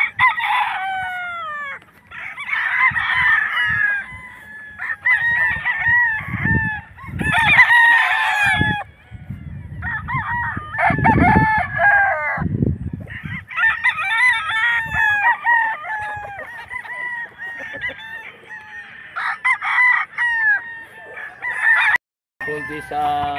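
Stag roosters crow repeatedly with long, strained calls over a busy background of clucking hens and other fowl, all close and loud, with a few quiet gaps and murmured talk underneath.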